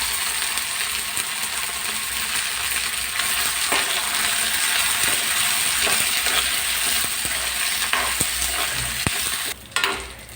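Ginger and green chillies frying in a pan for chutney, a steady close sizzle with scattered clicks and stirring scrapes throughout, ending with a brief drop and a final scrape.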